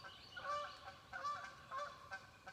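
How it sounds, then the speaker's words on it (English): Several honking waterfowl calls repeat in short bursts, faint and somewhat distant over a low background hiss. "But there's my ducks."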